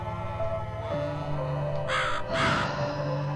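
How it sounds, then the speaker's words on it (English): Crow cawing in the video game The Cat Lady, two harsh caws in quick succession over a sustained low musical drone, close and distinct, no speech. "Did you hear the crow?"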